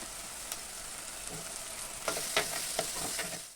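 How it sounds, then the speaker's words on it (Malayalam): Chopped onion, coconut pieces and ginger-garlic paste fry with a steady sizzle in a pan for a prawn curry, with a few scraping stirs toward the end. "ഇനി നമുക്ക് ഇഞ്ചി വെളുത്തുള്ളി പേസ്റ്റ് ചേർക്കാം."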